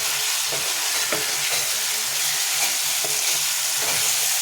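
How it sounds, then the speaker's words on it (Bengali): Fish kalia stirred continuously in a frying pan, with a steady loud sizzle and spatula scrapes recurring about every half second, no voices. "এরকমভাবে কালিয়া বানিয়ে খাবেন অবশ্যই এরকম নাড়া একটু কন্টিনিউ নাড়া দিতে হবে"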